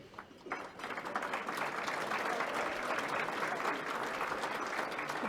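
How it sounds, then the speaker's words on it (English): A crowd applauds steadily, a dense wash of clapping that swells quickly and holds loud and even, with no voices over it. "let's just give it up for another round of applause"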